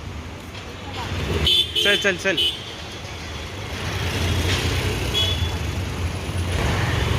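Traffic passes on a busy Mumbai street near Prabhadevi market, a steady roadway rumble with engines swelling by up close, while someone talks briefly over it.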